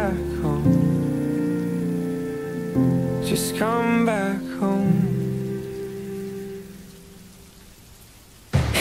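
Steady rain patters beneath a soft sung pop ballad, the shower a constant wash under the male vocal and piano.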